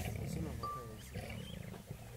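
Lions snarl and rumble near a warthog kill, a close, rough growling that swells and fades over two seconds, with faint human voices mixed in.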